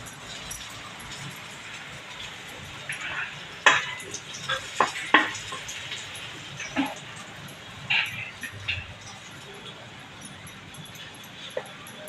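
Beetroot cutlets frying in a pan, a soft steady sizzle with scattered sharp clinks and scrapes of a utensil, a dog whimpering faintly in the background and a few words spoken.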